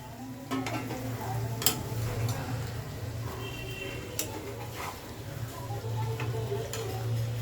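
Koi fish frying in hot oil in a home kitchen, a continuous soft sizzle with a low steady hum and scattered faint ticks and clinks from a pan, fairly quiet and without talk.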